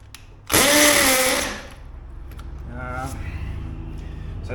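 A power drill drives a Tapcon masonry screw for a garage foldaway bench in one loud, close burst of about a second. Quieter motor hum and shop noise follow.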